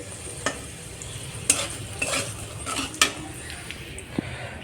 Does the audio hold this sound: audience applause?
no